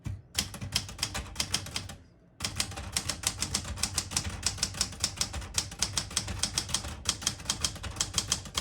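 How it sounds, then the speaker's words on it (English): Rapid mechanical clacks of a 1980 Smith-Corona Classic 12 portable manual typewriter, keys striking in quick bursts with a brief pause partway through, close and crisp. "I'll type a sentence in red on the next line"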